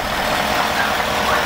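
A truck's 5.0 V8 engine idles with a steady, even rumble and hiss. It is close and constant, with no clear voices over it.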